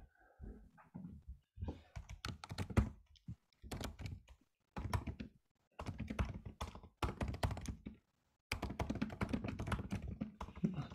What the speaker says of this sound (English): So I'm having a hard time typing